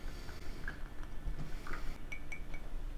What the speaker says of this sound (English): I'm just going to mix it up with my pipette here